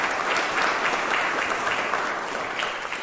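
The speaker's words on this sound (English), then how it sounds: "A round of applause please for DCI&F." A crowd at a Marine Corps ammunition technician awards ceremony applauds steadily for a lieutenant general, a dense, even wash of clapping that holds for about three seconds and fades slightly at the end.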